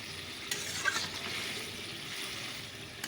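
Water is poured into spices frying in a pan on a gas stove, raising a dense, steady hiss and sizzle that holds close and loud throughout, with a couple of faint clinks.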